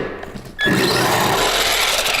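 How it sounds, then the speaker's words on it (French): A radio-controlled car fitted with saw blades in place of wheels grinds into a wooden plank, a harsh, continuous rasping that bursts in abruptly after a short quieter moment and stays loud and close. "Et essaie de scier la planche."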